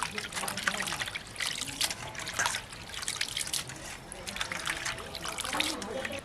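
Water from a tap runs and trickles steadily while spinach leaves are washed, a close continuous splashing with soft rustling of wet leaves throughout.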